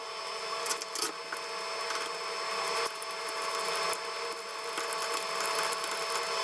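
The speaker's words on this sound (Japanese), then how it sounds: "ガントリーをベースユニットにネジ止めします。" Screws are driven to fasten the gantry onto the base of an Elegoo Neptune 4 Plus 3D printer, producing a continuous close whirring and ratcheting noise with faint knocks and no speech.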